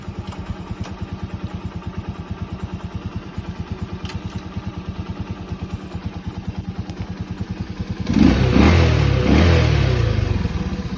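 A small 100cc Arora Commuter Elegant motorcycle engine idles with a steady, rapid putter, then revs up louder and rougher near the end.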